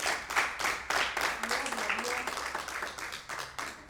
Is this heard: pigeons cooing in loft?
no